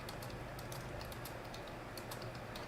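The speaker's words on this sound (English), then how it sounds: "You're typing." Typing on a computer keyboard comes through faintly as rapid, irregular clusters of light key clicks over a steady background hiss, with nobody speaking.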